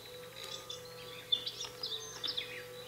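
Soft, high bird chirps in the video game Gretel and Hansel, scattered tweets over a low steady background hum, faint and with no talk.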